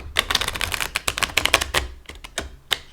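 Quick, irregular bursts of riffling card clatter, a tarot deck being shuffled close up in short flurries with brief pauses between.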